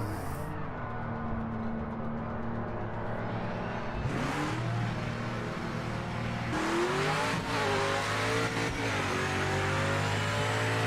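A race car in Project Motor Racing, driven in an online lobby, revs hard and climbs through the gears with a loud, steady engine roar that runs the whole time, with rising pitch sweeps at each shift.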